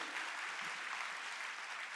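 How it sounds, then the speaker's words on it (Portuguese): A church congregation during a morning service breaks into a full, sustained round of applause, a dense, even wash of many hands clapping at a distance with no voices on top. "Alguém pode aplaudir Jesus nessa manhã?"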